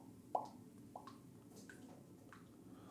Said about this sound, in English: Can you hear the dripping?